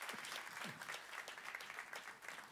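Church congregation clapping during a French-language service, a dense, continuous round of applause from many hands filling the room at moderate level.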